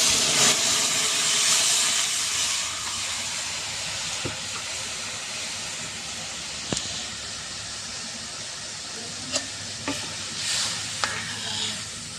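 Five-spice seeds tempered into a pan of cooked lentil dal give off a steady steamy hiss and sizzle, loudest at first and then settling, with a few sharp clinks and taps along the way.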